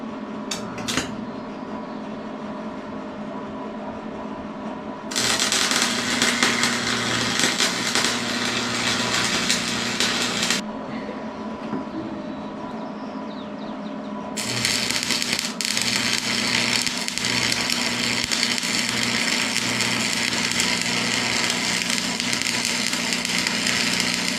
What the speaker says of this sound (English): gonna try welding at 80 amps